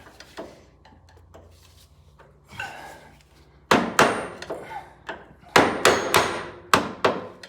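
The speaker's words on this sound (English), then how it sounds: "So don't tap it too far down" Hammer tapping a washer down onto a lawn mower steering bushing, a series of sharp metallic knocks starting soft and sparse, then growing louder and more frequent, close up with no talking.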